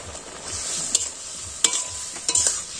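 Mustard paste going into a frying pan in a village kitchen, giving a gentle hiss and sizzle with a few sharp scrapes and clinks of a spoon against the pan.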